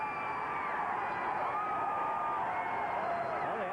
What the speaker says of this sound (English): this crowd is really pumped tonight.